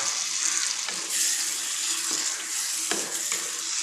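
Eggs go into a spice paste frying for egg biryani, producing a steady, close sizzling hiss with a few soft stirring clinks and no talking.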